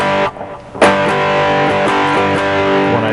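Electric guitar strumming a fretted, fully pressed chord with a distorted rock tone, sustained and ringing loudly with a sharp fresh strum partway through and no voices.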